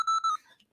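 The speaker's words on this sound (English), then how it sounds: "Beep, beep, beep." A theremin circuit kit gives off electronic beeping: a pure tone with harmonics pulses about three times in quick succession, then cuts off, close and clear with no talk.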